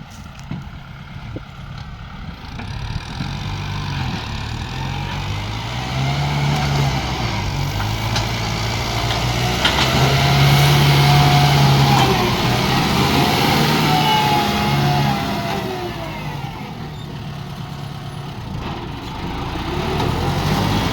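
Kubota M7040 tractor diesel engine running close by, a loud, steady rumbling idle that rises briefly in the middle and then settles back.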